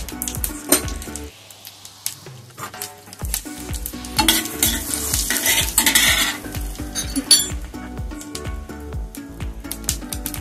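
Mustard seeds and cumin hit hot butter in a pan, crackling and sizzling up close while a spoon clinks and scrapes against the metal in busy bursts.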